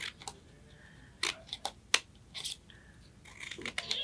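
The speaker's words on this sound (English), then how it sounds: "I'm just going to cut like this. Give it a couple of snips." Scissors snip through paper to cut out legs, giving several sharp separate clicks and snips against a quiet room, with a faint voice in the background.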